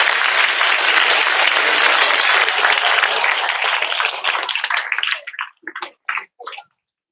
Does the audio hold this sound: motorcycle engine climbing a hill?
no